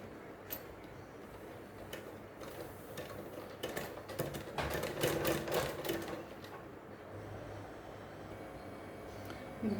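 An electric sewing machine stitches a collar onto the neck of a shirt for a school uniform, its needle running in a steady mechanical whir that grows louder in the middle before easing, with no talking.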